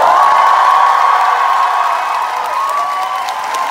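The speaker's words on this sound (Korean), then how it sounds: "제가 끝나고 여러분이 정말 이 공연이 즐거우시다면 여러분의 환호" A concert crowd at a musical theatre performance cheers and whoops loudly and continuously, a dense sustained roar of voices that eases slightly toward the end.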